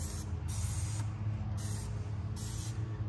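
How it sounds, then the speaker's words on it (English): Wheel cleaner sprayed onto a car wheel caked with brake dust, several sharp hissing spray bursts in a steady rhythm, close and fairly loud. "And you can see how it sprays out."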